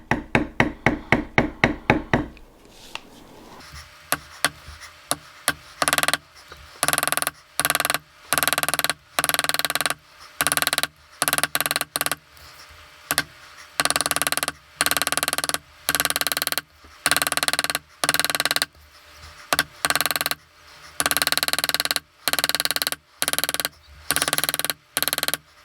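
Leather border being beveled with a metal beveler tool struck by a mallet: a quick run of sharp taps, then steady rhythmic bursts of dense tapping separated by short pauses, close and crisp.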